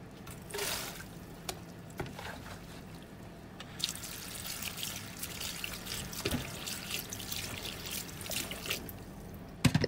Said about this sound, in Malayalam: ബീൻസിനെ നന്നായിന്ന് കഴുകി വൃത്തിയാക്കി എടുക്കണം ഓൾറെഡി ഞാൻ ഇതിനെ കഴുകിയതിന് ശേഷമാണ് ചോപ്പ് ചെയ്തെടുത്തിട്ടുള്ളത് ഒന്നുകൂടെ കഴുകിയെടുക്കുകയാണ് ചെയ്യുന്നത്